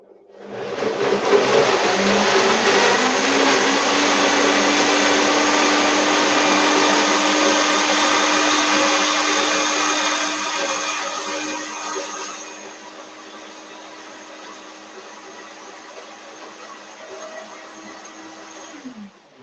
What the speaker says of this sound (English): this blender is super powerful, and I'm just going to turn it on 20 seconds preset function